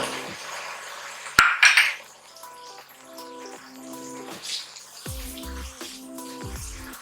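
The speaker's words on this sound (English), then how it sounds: "I'm going to break my paste and make sure it's fried very well." Tomato paste is broken up and fried in a pot for jollof rice, with wet squishing and sizzling, a sharp clink of a utensil against the pot, and scattered scraping and tapping close by.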